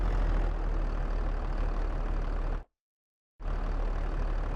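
Steady low rumble of a tractor engine idling in Farming Simulator 22, continuous and fairly loud, cutting out briefly to complete silence before resuming just as before.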